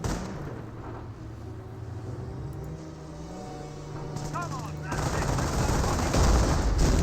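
Bursts of MP40 submachine gun fire in the Company of Heroes battle game, mixed with other battlefield noise and rising louder in the final seconds, with a commentator talking over the action.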